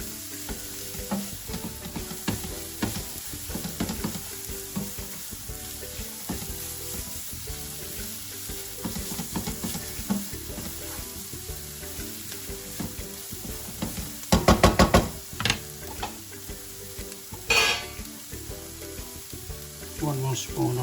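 Leftover rice frying in ghee in a pan, sizzling steadily up close, with busier bursts of scraping and stirring partway through and again later.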